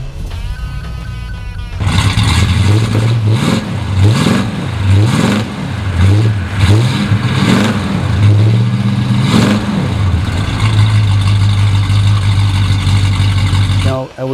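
A 1970 Plymouth Road Runner 440 Six Pack V8 engine cranks and fires up, then revs hard several times in quick surges before settling into a deep, rumbling idle.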